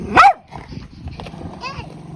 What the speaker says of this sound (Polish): I tam drugi piesek.